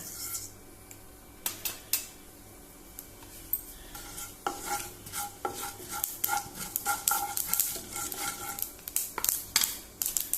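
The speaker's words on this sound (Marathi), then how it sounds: "आतां ती तापली, आतां तातूंत कितें करुया जाणा, पयलीं सासवा घालुया" Mustard seeds hit hot oil in a pan for Goan-style ivy gourd bhaji, giving a steady crackling sizzle broken by sharp popping bursts and clicks that grow busier toward the end, close and fairly loud with no talk.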